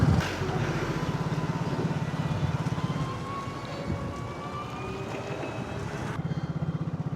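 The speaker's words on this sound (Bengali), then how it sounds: "তো আমরা বাইক নিয়ে এসেছি, তাই নিউ দীঘা থেকে আমরা চন্দনেশ্বর টেম্পল বাইকে করে যাচ্ছি।" A motorcycle ridden along a road from New Digha toward Chandaneswar temple in Odisha, its engine a steady drone under wind and road noise that drops away briefly near the end.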